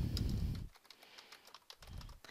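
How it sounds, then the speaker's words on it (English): Computer keyboard typing while collaborating on a Google Docs document: soft, scattered key clicks, faint and close, between short low thumps. "I can also come here and be typing as well"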